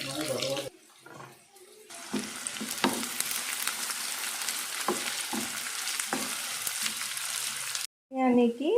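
Onions frying in oil for chicken dum biryani, a steady broadband sizzle with stirring clatter and brief water-tap-like splashes, sustained and fairly loud after a quieter opening.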